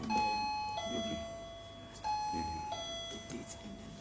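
Answer bells rung at a university business quiz contest, two bright electronic chime tones sounding one after another, then repeated a second time, loud and close with a faint murmur behind.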